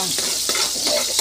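Garlic stirred in a hot pan for chicken and pork adobo, heard as a steady loud sizzle with scraping strokes of a utensil against the pan and no talking.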